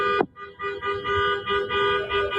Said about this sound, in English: That's still Renee Good honking the horn in the middle of the road.